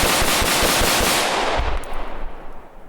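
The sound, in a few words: rapid fire magazine dump from PSA M4 carbine AR-15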